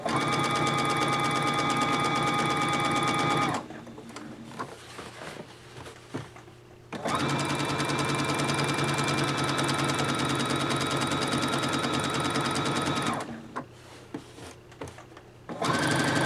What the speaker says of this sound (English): when you use the straight stitch foot, before you start sewing, make sure your needle is in a center needle position